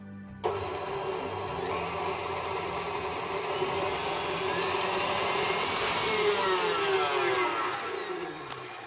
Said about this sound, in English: we're going to mix for a couple of minutes on high